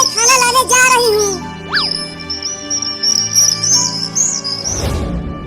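Cartoon parrot chirps and tweets in bright, high, warbling calls, with quick whistled slides and a long sustained trill near the front, ending in a short rustling burst.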